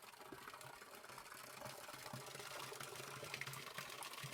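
Water filling a tank inside a small shed on a farm, a continuous low rushing and gurgling flow with a faint mechanical hum, steady and moderately quiet throughout.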